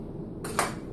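A spoon knocks against a bowl in a home kitchen with a crock pot, giving two brief ceramic clinks close by against a quiet background.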